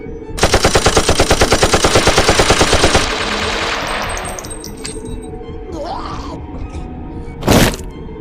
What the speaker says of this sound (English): he quickly aimed his gun and started firing into the woman, Dante following suit.